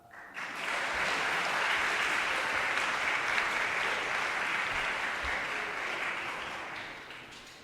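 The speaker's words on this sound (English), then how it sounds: "You can clap now." A school assembly audience at a winter athletics ceremony breaks into steady, full applause that rises quickly, holds for several seconds and then gradually tapers off, with no one speaking over it.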